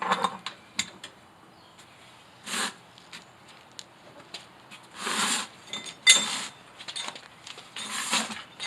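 A spare tire winch under the bed of a Toyota Tacoma is cranked counterclockwise to lower the spare, producing intermittent ratcheting clicks, metallic clinks and short scraping rasps, close and fairly quiet.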